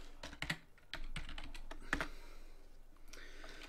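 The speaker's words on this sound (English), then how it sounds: "we're going to just enter in the default username and password of Vyatta Vyatta." Typing a default username and password on a computer keyboard, a quick irregular run of crisp, close key clicks and taps with brief pauses between bursts, quiet and without talk.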